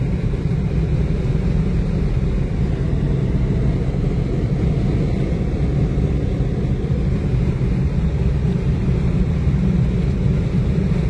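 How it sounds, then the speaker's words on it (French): A Ford Scorpio 2.0 GL cruising at about 130 km/h fills the cabin with a steady, loud drone of engine and road rumble that stays constant throughout, with no speech. "On est à 130 et elle continue de pousser sans problème."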